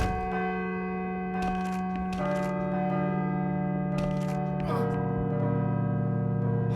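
A church-style bell rings with steady sustained harmonic tones in the horror video game Call of Cthulhu: Dark Corners of the Earth, holding for several seconds over a low drone with occasional brief noisy bursts.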